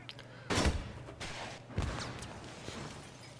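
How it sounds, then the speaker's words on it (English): RPG launches fired one after another in the Battlefield 3 multiplayer match on Grand Bazaar, heard as three broad whooshing blasts spaced about half a second to a second apart over low background rumble. "I'm just firing off a bunch of RPGs"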